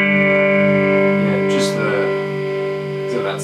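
Electric guitar played through an Electro-Harmonix pedal on its tremolo setting rings out as a loud sustained chord with a steady pulsing swell, and a voice briefly talks over it partway through.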